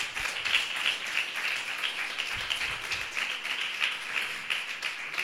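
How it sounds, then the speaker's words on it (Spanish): Spanish-speaking church congregation claps during a worship service, a scattered, moderately faint round of applause with individual claps audible through the wash, ongoing steadily with no talking. "Ha sido un fuerte aplauso para Jesucristo."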